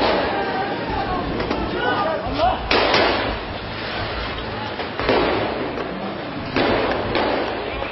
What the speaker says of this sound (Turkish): Yetmedi, havai fişek attılar.